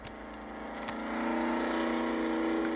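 A car engine in the video game Fancy Place 2 drones steadily and grows louder as it accelerates, with a sustained, constant tone.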